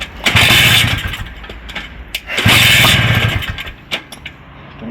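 A 1971 Bultaco Alpina 250 motorcycle engine kicked over and catching, rough loud bursts of two-stroke firing that sputter, fade and pick up again, close by.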